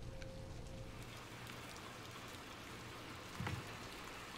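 Steady rain falls in the Little Nightmares 2 video game, a constant soft hiss of drops with a brief low thump near the end, no voices.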